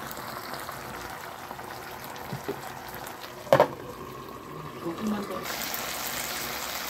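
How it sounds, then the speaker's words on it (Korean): Thinly sliced lotus root simmers in braising liquid in a covered pot, a faint, steady bubbling with a brief clatter near the middle, while a person talks. "연근이 계속 졸여지고 있는데요."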